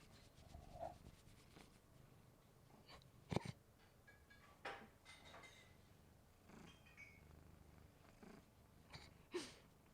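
A cat purring close by, a soft, low continuous rumble broken by a few louder rustles and snorts.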